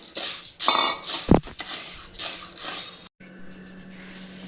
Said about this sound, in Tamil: உளுத்தம்பருப்பை பொன்னிறமாக வறுத்து எடுத்துக்கலாம்